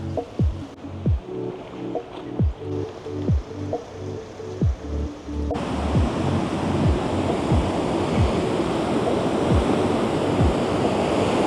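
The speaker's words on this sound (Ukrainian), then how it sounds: "просто подивимося на річку і на океан" Ocean surf near a river mouth in Porto makes a steady broadband roar with wind buffeting the microphone. The sound swells louder and denser partway through.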